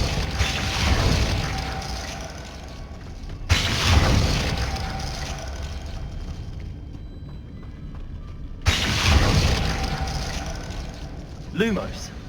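The Glacius spell goes off in Hogwarts Legacy with loud booming bursts, two sharp impacts a few seconds apart, each fading into a rumbling tail, plus a smaller pop near the end.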